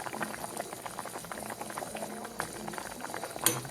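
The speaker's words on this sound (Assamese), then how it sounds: "প্ৰায় উতলি হৈছে শাকখন" Spinach and fish curry bubbling in a covered pot, a steady stream of small pops and burbles at moderate level, with a brief sharper clatter near the end.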